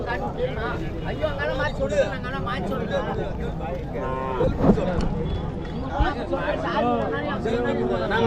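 Bull calves and young plough bullocks at a busy rural cattle market low and moo repeatedly, close by, over a constant hubbub of crowd chatter and livestock noise.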